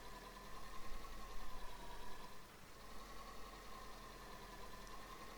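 A tractor engine idles in the farming video game FarmTogether, a low, steady mechanical drone that swells slightly and then settles, alone without talk.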